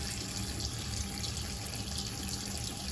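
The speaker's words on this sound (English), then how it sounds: "you're gonna need to leave the water running" Tap water runs steadily into a sink while makeup brushes are washed with tea tree soap, a continuous soft splashing hiss, close and even throughout.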